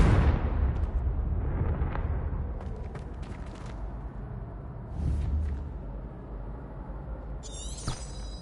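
Confringo fire spell blasts in Hogwarts Legacy, a loud booming explosion with a rumbling tail that decays, followed by a few smaller crackling bursts and a bright magical shimmer near the end.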